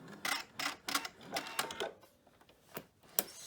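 A PFAFF sewing machine cuts its threads with a quick run of sharp mechanical clicks and whirring bursts, close and fairly quiet, followed by a pause and a few more isolated clicks.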